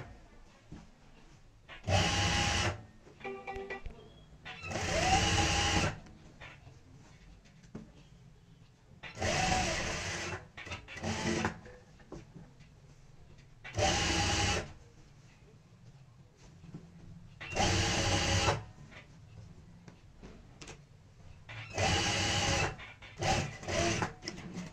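A sewing machine stitches a potli bag in short, evenly spaced bursts with quiet gaps between them.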